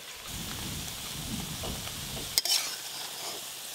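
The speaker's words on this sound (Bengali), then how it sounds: "এই দেখো কত সুন্দর ডিমের বড়া হচ্ছে" Egg fritters frying in a pan make a quiet, continuous sizzle with faint crackling, interrupted once by a sharp metallic clink midway.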